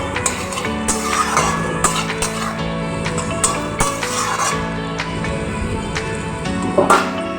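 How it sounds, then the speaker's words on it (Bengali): Crushed garlic fries in oil in a pan for a fish kalia, giving a continuous crackling sizzle broken by sharp spatters and stirring clatter, close and fairly loud, with no voices. "দিয়ে দেব থেতো করে রাখা রসুন ভালো করে আমি এবার ভেজে নেবো"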